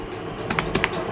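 A short run of keystrokes as a password is typed on a computer keyboard, with four or five light, close clicks in quick succession over a quiet room.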